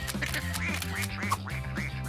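Ducklings quack and peep in a lively, repeated series of short rising calls close by, over a steady low background hum.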